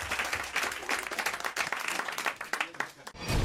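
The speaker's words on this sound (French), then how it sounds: "Si, franchement, on vous applaudit" Applause in a French radio studio, a lively burst of clapping from a small group with uneven, rapid claps that dip briefly near the end before picking up again.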